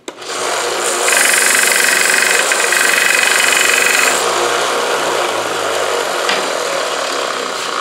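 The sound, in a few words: small sander squaring up a wooden dowel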